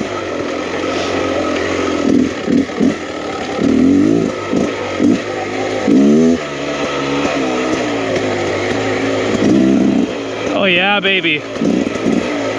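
Riding a 2023 Beta Xtrainer 300 enduro motorcycle through corners in tame mode, the two-stroke engine revving up and down in bursts with a sharp rise near the end, while a rider speaks briefly over it.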